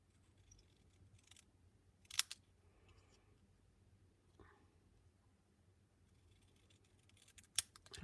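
Scissors cut straight along stamped card pieces for a handmade flower card, giving a few brief sharp snips with quiet pauses between them, with no talking.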